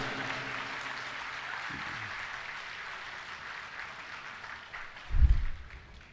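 Audience applause at an Urdu poetry mushaira as a poet is welcomed to the stage: sustained crowd clapping at moderate distance, fading slightly, with a low thump near the end.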